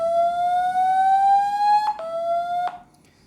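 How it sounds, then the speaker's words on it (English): Mi phone speaker emitting a loud, steady high-pitched cleaning tone that rises slightly, then jumps to a new pitch with small clicks before cutting off into quiet. "There will be a high frequency sound which will emit now,"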